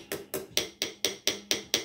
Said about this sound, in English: so light taps to begin with, it sounds hollow